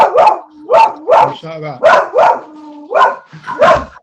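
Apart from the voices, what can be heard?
dog barking at someone coming through the door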